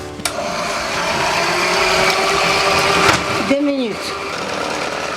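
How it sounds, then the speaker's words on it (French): An electric mixer whisks egg whites with a steady motor whine and beater rattle, the pitch sweeping and dipping near the end as the speed changes, while a person speaks briefly over it. "On commence à mixer le blanc d'œuf."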